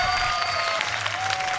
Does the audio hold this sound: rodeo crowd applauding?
yes